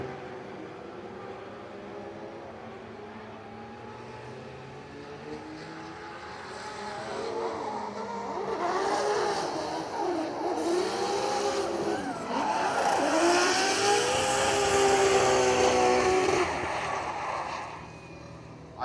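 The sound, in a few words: drift cars revving engines through long sweeper corner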